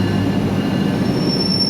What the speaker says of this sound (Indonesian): Saat ini kereta api Bangunkarta tiba di stasiun Purwokerto awal 3 menit.